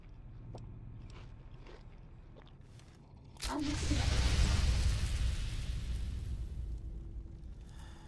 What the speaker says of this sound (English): tank the explosion that the gas creates